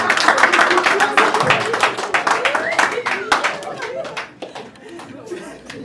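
An audience bursts into brisk, dense clapping at a live event in Bujumbura, loud and close, the applause thinning toward the end while people chatter and talk over it.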